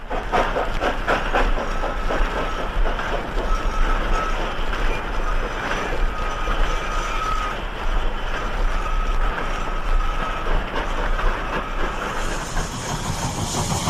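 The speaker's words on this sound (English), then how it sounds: "Percy crawls by Farker's station and yard, with a small train of mixed goods" A saddle tank steam locomotive crawls past a station and yard hauling a short mixed goods train, a loud, steady rumble of wheels and rolling wagons with rhythmic clanks and a faint whistle-like tone over the middle.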